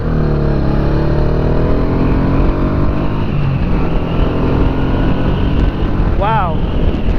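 A 1985 Honda Shadow motorcycle is ridden at speed, its engine rumbling loudly and steadily under heavy wind buffeting, with a brief rising rev change near the end.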